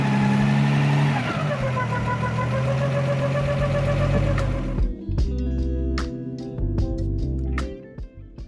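A classic TVR 3000M sports car engine runs as the car is driven outside, a loud, close, rumbling drone that drops in pitch early on and then settles to a lower, uneven idle.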